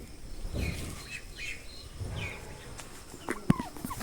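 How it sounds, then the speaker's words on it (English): Turkeys on a farm gobble in several close, loud bursts spread across a few seconds, with a few sharper calls and clatter toward the end. "And then the turkeys are running around."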